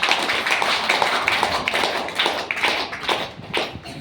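A crowd at a company achievement event claps loudly and continuously, with dense overlapping applause filling the whole stretch.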